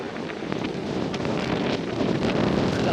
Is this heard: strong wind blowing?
yes